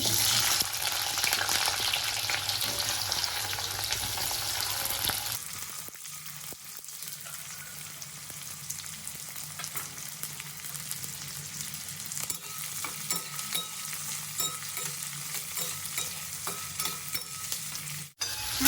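Three medium onions, cut up, sauté in a pan for chicken curry, sizzling steadily and close. The frying sound turns softer and less bright partway through, with occasional stirring scrapes.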